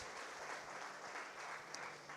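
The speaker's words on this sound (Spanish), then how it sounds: "denle un fuerte aplauso al Señor" A congregation at a Sunday church service applauds, a soft, even wash of many hands clapping together, faint and distant-sounding throughout.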